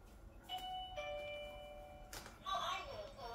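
A wireless doorbell with a motion sensor rings out a ding-dong chime twice, with faint movement sounds and a brief quiet voice around it.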